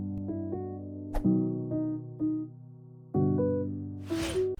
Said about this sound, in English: I started off with some simple chords and a melody on a piano